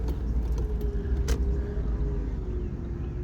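A GMC 2500HD pickup idling after warming up: a steady, close, low engine rumble holds evenly throughout, with a faint light jingle over it.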